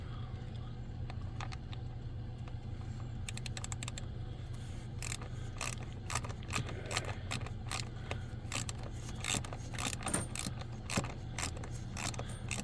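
A short 1/4-inch drive ratchet clicks in quick, uneven bursts while ignition coils are being replaced on a 2015 GMC Acadia Denali, faint and close over a steady low hum.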